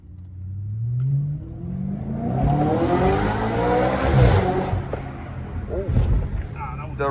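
An Audi RS5 with a 4.2L V8 revs hard through the gears toward the limiter at night, a loud rising engine roar with gear changes, heard from inside the car with voices over it.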